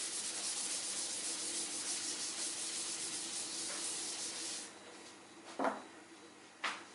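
A board is rubbed clean in a steady scrubbing stroke that runs for several seconds, then stops, followed by two short louder swipes near the end; no talking.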